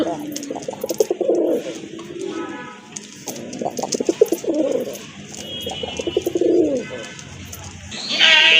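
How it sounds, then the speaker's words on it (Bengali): Pigeons coo in repeated soft, throaty phrases at close range, three rounds of rolling calls with someone talking between and over them in a pigeon collection. "বিগ সাইজের একটা সিঙ্গেল মাদি কবুতর আছে"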